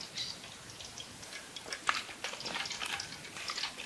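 Chang fish (snakehead), rubbed with turmeric and salt, frying in hot oil, a steady busy crackle and spatter with scattered sharper pops, fairly close and moderately loud, with no talking.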